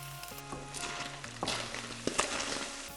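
Beef frying in oil in a pan, seasoned with salt and cumin while making Uyghur-style fried empanada filling: a steady close sizzle with brief stirring clatters and a few sharp knocks, no talking.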